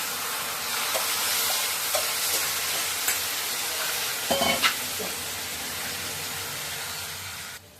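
Taro leaves sizzle and fry in a pan with a steady loud hiss throughout, broken by a few soft clicks and scrapes of stirring, with no voices.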